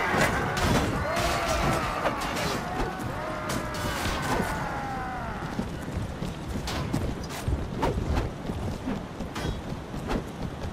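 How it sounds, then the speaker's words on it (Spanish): Horse hooves clip-clopping steadily in the Mount & Blade Warband game, a dense run of hoofbeats amid battle clatter and crashes, with a rising whinny-like tone early on and no speech. "Caballo."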